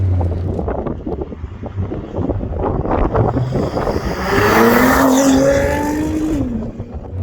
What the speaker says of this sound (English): Oh, the way it just goes to the gears, it's so effortless.